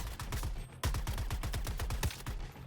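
Rapid automatic gunfire crackles in Suicide Squad: Kill the Justice League, dense bursts of close shots in quick rhythm with a heavier blast partway through.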